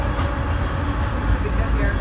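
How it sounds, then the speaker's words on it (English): A loud train passing near an outdoor interview spot, a steady broadband rumble and roar filling the whole moment, with a faint voice underneath. "I didn't realize the train's going to be that loud."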